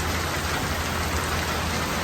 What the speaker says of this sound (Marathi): पाऊस तर लई वेट पडायला लागला